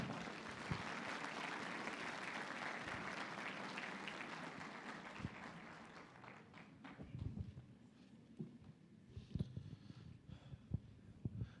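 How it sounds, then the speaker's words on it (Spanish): Church congregation applauding to welcome a pastor at an evangelistic campaign evening; dense, steady clapping fills the first half, then thins into scattered claps and a few louder pats as it fades. "Vamos a recibirle con fuertes aplausos al pastor Jong-Gun Park."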